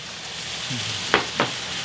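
Sauce poured into a hot pan for kimchi dan dan noodles, a steady sizzle that flares with two sharp bursts as the liquid hits, with no talking.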